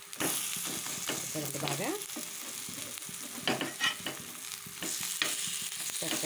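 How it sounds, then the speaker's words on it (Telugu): Bajji fritters frying in hot oil give a continuous sizzle while a utensil scrapes and turns them with clinks and stirring sounds, and someone speaks briefly over the cooking. "మనకి బాగా ఇవి ఫ్రై అవుతాయి చూసారుగా మనకి ఫ్రై అవుతున్నాయి ఇవి తిరిగేస్తాను"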